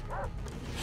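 A dog yips and barks twice in quick succession in the video game Far Cry 3, close and fairly loud over steady low rumbling game ambience.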